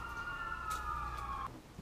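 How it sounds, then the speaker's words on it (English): Emergency vehicle sirens pass by outside a wooden boat under restoration, a wavering wail with a steady tone that cuts off sharply partway through, over low background rumble. "I'll let the sirens go by."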